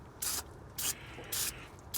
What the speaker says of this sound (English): Spray some of this gooberish stuff on here to get that gasket off.